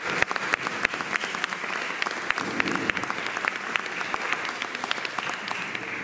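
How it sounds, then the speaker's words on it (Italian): An audience claps throughout a Christmas lights ceremony in Tropea, a dense, steady crowd applause close by and sustained for several seconds. "vi invito a fare un applauso"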